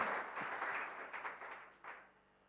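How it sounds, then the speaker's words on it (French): Applause from a church congregation at a French and Swahili sermon, a steady wash of clapping that holds for about two seconds and then tapers off, fairly faint and distant. "Acclamons d'abord pour vous-même."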